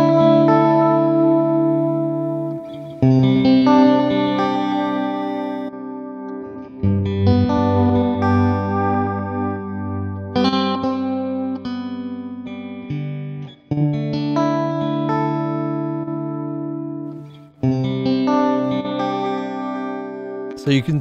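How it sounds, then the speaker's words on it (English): Sustained synth or instrument tones processed through the Magic Dice plugin shift in pitch, tone and effect with each randomised change, forming a continuous, fairly loud series of wobbling, chorused and echoing variations. "every time you click in the middle here, you get a different random variation of those three effects."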